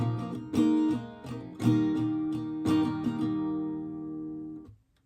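Acoustic guitar strumming the first outro line of a song in the live version, steady strummed chords with accented strikes, close and clear, ending abruptly with no talking.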